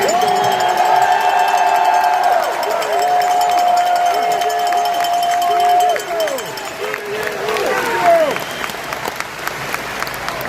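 A large rally crowd in Oshawa, Ontario cheers and applauds at length, with loud sustained whistles, shouts and clapping filling the whole stretch, close and dense, while a voice talks beneath it.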